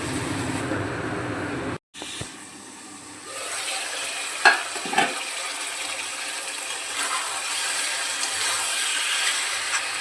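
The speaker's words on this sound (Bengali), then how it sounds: "আলু আর পটলটা মশলার সাথে ভালো করে কষানো হয়ে গেলে" Potatoes and pointed gourd sauté with spices in a pan, giving a steady broadband sizzle with a brief dropout early on. A couple of sharp stirring knocks come midway, and there is no talk.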